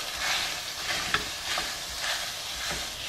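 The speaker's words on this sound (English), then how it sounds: "We're going to break up the sausage." Jimmy Dean breakfast sausage used as Italian sausage browns in a pan, with a steady sizzle. A utensil breaks the meat into small pieces, making soft, repeated scrapes and taps through the sizzle.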